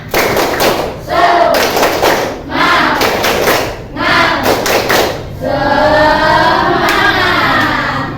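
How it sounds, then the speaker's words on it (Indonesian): A classroom of students claps in rhythmic bursts, short patterned rounds of hand claps repeating several times, loud and close, ending in a longer sustained round. "Coba Ibu pengen tahu tepuk semangatnya yuk. Tepuk semangat."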